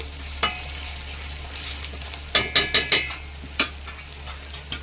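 Curry leaves hit hot oil in a pan with a soft sizzle, broken by a quick run of sharp spattering pops and a few scattered crackles, close and alone.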